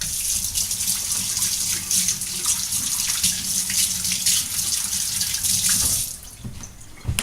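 Water runs steadily from a tap as fingers are rinsed under it, a constant close splashing hiss that thins out near the end.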